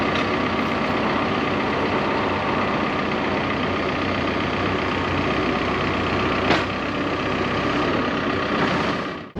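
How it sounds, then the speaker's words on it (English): A diesel motor drives an irrigation pump drawing water from a river, a loud, steady engine drone running unbroken throughout with one brief knock partway through. "Got hooked up to a diesel motor, which is the pump for that one."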